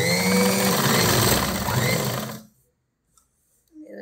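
A sewing machine stitches fabric, sewing a sleeve seam, in a steady fast mechanical whir that runs for about two and a half seconds before stopping abruptly, leaving near silence with a faint rustle at the end.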